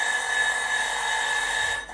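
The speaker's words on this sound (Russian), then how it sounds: "Это сработал таймер" A kitchen timer rings while dough is being made for fried pastry, giving a loud, steady electronic tone with several bright harmonics for about two seconds before it cuts off.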